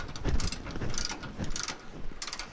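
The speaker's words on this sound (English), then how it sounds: "So we're gonna use a ratchet for some leverage." A hand ratchet tightening a bolt on a Ford F250 rear shock: a few close bursts of rapid metallic clicking as the handle swings, separated by short pauses.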